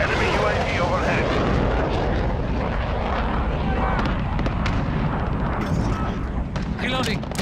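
Enemy aircraft passing overhead in a military shooter video game, a loud continuous roar mixed with dense gunfire and explosions.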